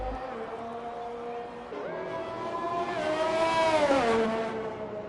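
A race car in a racing video game spins out, its engine droning then revving up hard and falling away, with a tire squeal rising through the middle of the slide.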